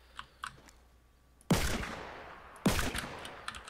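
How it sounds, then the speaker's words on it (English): Two sharp gunshots from the video game Fortnite, spaced about a second apart, each with a decaying tail over faint clicking, no talk. "if I can shoot this guy"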